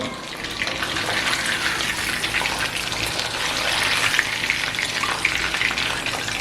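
Chicken and potatoes fry in hot oil with a dense, steady sizzle and bubbling, close and continuous with no talking.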